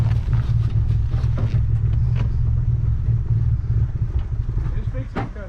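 A 1950s car engine running and being put into reverse gear, a steady low rumbling idle heard close, fading slightly toward the end, with people talking over it.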